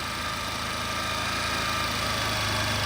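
A Suzuki Hayate motorcycle engine runs continuously at high revs nearby, a loud, steady, buzzing drone that holds without change and has no voices over it.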